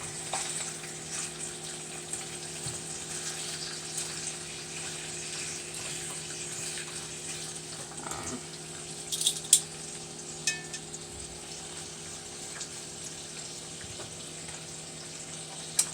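Bacon fries in a pan with a steady, quiet sizzle throughout, joined by a few faint clinks and scraping sounds partway through.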